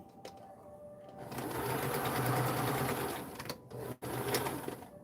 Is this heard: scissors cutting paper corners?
no